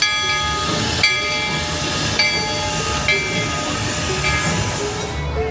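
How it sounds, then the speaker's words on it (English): The Calico Mine Train rolls along at Knott's Berry Farm with a loud, steady rumble and hiss, its wheels clacking at regular intervals. "The Calico mine train is an experience."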